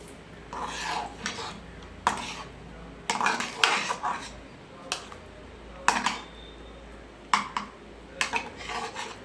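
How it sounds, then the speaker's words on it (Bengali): A spoon stirs thick dal with sambar masala in a pot, giving irregular metallic clinks and scrapes against the pot, close by, with no talking. "নাড়িয়ে নেব"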